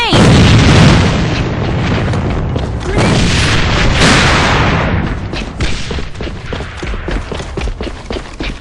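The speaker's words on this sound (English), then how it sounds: "Enemy grenade!" Grenade blast in the online shooter AVA: a loud, close booming explosion that rumbles on for several seconds, with a second surge and crackling debris-like bursts trailing off.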